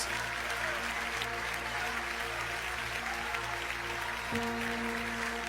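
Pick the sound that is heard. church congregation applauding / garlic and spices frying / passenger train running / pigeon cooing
church congregation applauding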